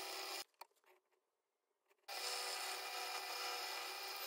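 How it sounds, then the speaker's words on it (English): Power drill with a 5mm bit boring into a woodturned burr, a loud steady whir that stops briefly for a pause with small knocks, then resumes. "Got my 5mm drill bit in place."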